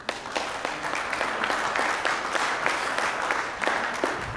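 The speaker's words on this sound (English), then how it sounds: "Round of applause, please." An audience at a speech contest applauds steadily, dense overlapping hand claps filling the room at moderate volume, continuing evenly throughout.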